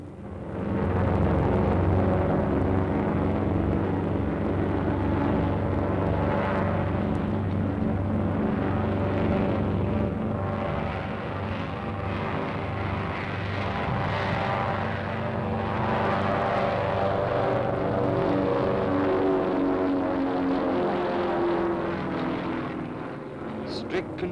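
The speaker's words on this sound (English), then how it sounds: "you're clear to enter the strip and taxi down for takeoff" A propeller aircraft taxis along the airstrip toward takeoff, its engine droning loud and continuous throughout, close by and steady, with a faint rising and falling hum over the whole stretch.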